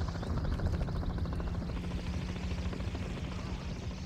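A helicopter in the Call of Duty: Modern Warfare 3 video game produces a continuous, loud rotor drone with a rapid thudding pulse, holding steady throughout with faint game sounds beneath.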